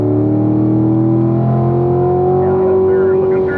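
Corvette engine pulling hard after an upshift to fourth gear on the Spring Mountain track, a loud steady drone rising in pitch, heard from inside the car.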